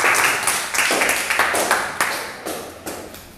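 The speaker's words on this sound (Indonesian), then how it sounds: "Oke, beri tepuk tangan untuk kelompok 2." A classroom audience applauds a student presentation group, with a burst of clapping that fades and then returns in several uneven, sharp rounds of fewer hands.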